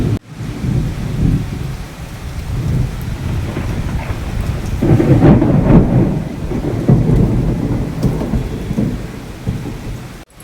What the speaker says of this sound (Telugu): వర్షం పడుతుందండి, ఉరుములు మెరుపులు వచ్చేసిందా, వర్షం స్టార్ట్ అయింది